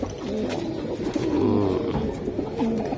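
Silver Giribaz pigeons coo steadily in a loft, their low, rolling calls overlapping close by and continuing throughout without pause.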